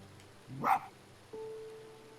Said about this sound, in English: I think what I need to do is just bark at it from here